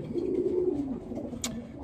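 A racing pigeon coos in its loft, one drawn-out throaty rolling call close by, fading out, followed by a brief light rustle.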